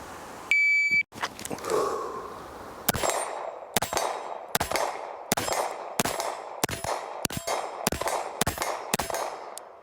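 Handgun shots fired at steel targets 40 yards away, about a dozen sharp cracks in a steady rhythm, each followed by a ringing metallic clang, fairly close and loud with no talking.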